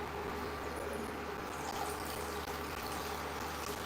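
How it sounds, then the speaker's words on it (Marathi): Water poured into a cooking pan over sautéed ingredients, a steady soft filling and bubbling wash, faint and continuous throughout. "परतून घेतले तर आपण यामध्ये पाणी घालूया"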